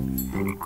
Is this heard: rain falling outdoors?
no